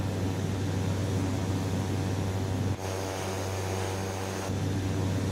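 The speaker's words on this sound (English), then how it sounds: "My vents were wide open to help cool the cabin down." Steady broadband rush of open cabin air vents inside a Cessna 208 Caravan in Microsoft Flight Simulator 2024, layered over a constant low engine drone, with a brief dip partway through and no talking.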